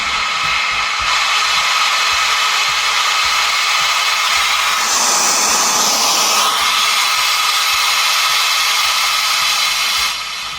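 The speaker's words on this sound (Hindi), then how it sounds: "ये कुछ इस तरीके से खर्र की आवाज़ कर रहा है क्योंकि इसके साथ एंटीना कनेक्टेड नहीं है ना" Steady, loud hissing static from an FM radio with no antenna connected fills the whole stretch, a harsh rushing crackle with a brief brighter swell midway.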